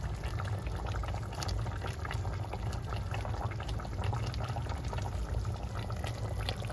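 Coconut milk pours into a pan of chicken curry, giving a faint, steady bubbling and liquid wash that runs throughout.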